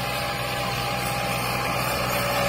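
A 1986 Massey Ferguson 265 four-cylinder tractor runs with a loud, continuous engine drone and a steady low hum, close and unbroken from start to end.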